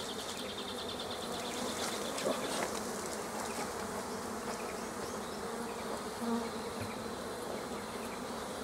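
Honey bees pour out of frames lifted from a honey super during hive work, making a dense, steady buzzing hum that stays close and constant throughout, with no talking.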